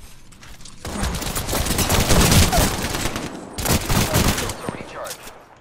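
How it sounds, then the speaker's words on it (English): Gunfire in the video game Apex Legends pours out in dense, sustained automatic bursts, loud and close, with a short lull before another volley. "Opening fire on the enemy."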